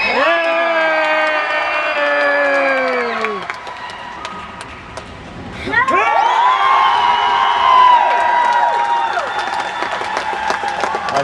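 A crowd at the Armageddon Sydney 2011 convention shouts and cheers loudly to choose the winner of a robot, with high sustained screams that fade, a short lull, then a second surge of cheering mixed with clapping.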